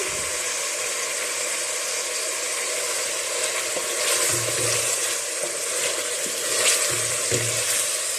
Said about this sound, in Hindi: अब प्याज डाल के भी हमने थोड़ा सा इसको भूनना है